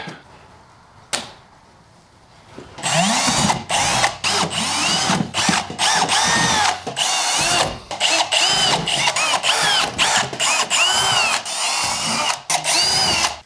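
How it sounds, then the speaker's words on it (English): A loud power drill whirring in repeated bursts with brief stops, close up, drilling through a fiberglass trailer tub, after a short quiet start with a single click. "this trailer's tub is fiberglass. That's why it's so easy to drill through it."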